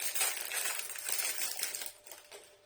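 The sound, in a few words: plastic packaging of a mini caterpillar cake being opened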